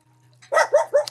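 A dog barks three times in quick succession, close and loud, following a brief low whine, with a faint hum underneath.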